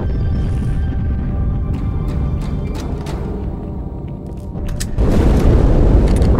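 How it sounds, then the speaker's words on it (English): A heavy explosion aboard the ship Athens in Halo 2's Cairo Station, a deep rumbling boom swelling in late and holding loud over continuous low ship ambience and scattered clanks. "That explosion came from inside the Athens."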